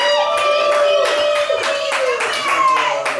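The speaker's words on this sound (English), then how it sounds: "Give him a round of applause." An audience at a stage show gives a round of applause, dense rapid hand clapping close and loud, with scattered voices in the mix.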